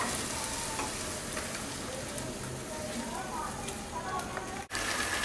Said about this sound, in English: After roasting it for 2 minutes, we'll add tomato puree in it.